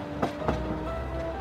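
Train running on rails, a quiet, steady rumble with two soft knocks of wheels over rail joints close together early on.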